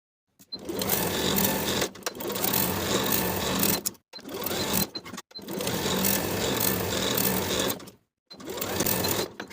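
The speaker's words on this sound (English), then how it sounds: "we can sew both of our side seams from the underarm to the notch, backstitching to secure with a 3/8 inch seam allowance" A sewing machine stitches the side seams of a blouse from underarm to notch, running in four steady motorized bursts of rapid needle chatter separated by short silent pauses, close and clear.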